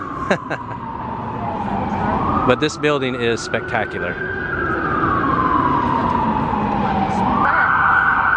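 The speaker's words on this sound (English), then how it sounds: "Trash on the streets. Yeah. Everywhere. Sirens going constantly." Emergency sirens wail loudly and continuously along a New York City street, rising and falling in pitch, while someone speaks briefly over them.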